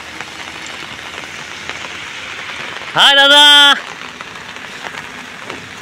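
Steady rain pattering down evenly throughout, close and fairly loud, with a short spoken greeting cutting in partway through.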